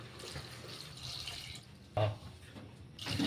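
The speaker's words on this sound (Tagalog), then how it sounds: "Tubig." Water pours steadily into a pot while shrimp sinigang is being cooked, a continuous splashing hiss broken by a brief clunk partway through, with faint voices nearby.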